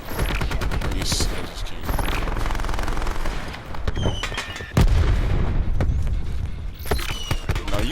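ICR assault rifle fire in Call of Duty: Black Ops 4, loud rapid bursts of gunfire with booming impacts, and a brief spoken remark over the shooting.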